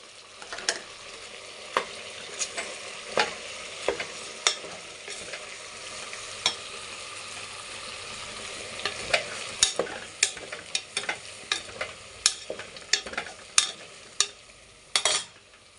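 Chili and coriander powder mix frying in hot oil for chicken sambar while being stirred, with a steady sizzle and repeated sharp scraping clicks of a spoon against the pan, close and alone.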